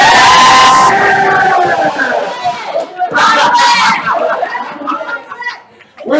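A game show studio audience cheers and whoops loudly, a dense roar that swells, dips and rises again across the stretch.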